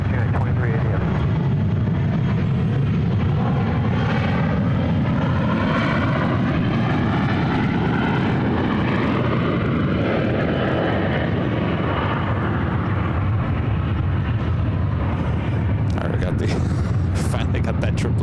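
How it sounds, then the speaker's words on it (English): A United Boeing 777-200 airliner bound for Honolulu takes off from runway 1 left at SFO, its engines roaring loud and steady for the whole stretch with a broad sustained rumble, while people talk over it. "One left for this United 777-200 heading to Honolulu."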